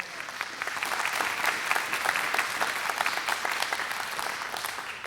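A congregation at a Sukkot gathering claps together in a sustained, moderately loud burst of many hands, evenly spread with no voices over it.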